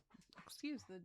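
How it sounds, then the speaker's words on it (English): A studio dog gives a short, high whimpering whine in a quiet indoor room, overlapping a person's speech. "I have a dog. My studio dog is in here with me today."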